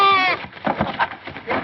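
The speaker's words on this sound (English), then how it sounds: "A goat in your mint bed." A goat bleats in a mint bed, a wavering bleat up close at the start, followed by excited voices talking over each other.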